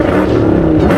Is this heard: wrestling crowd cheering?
no